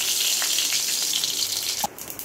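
Mustard seeds crackle and sizzle in hot oil at the start of tempering for a thuthuvalai rasam, a dense steady hiss close by, with a brief clink near the end and no talking.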